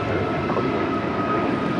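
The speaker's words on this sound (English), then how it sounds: "American Airlines flight 2883 headed to Miami at a 777-200ER." An American Airlines Boeing 777-200ER departing on runway 25 right at LAX, its engine roar a steady, broad rumble with a faint whine, fairly loud and continuous, no voices.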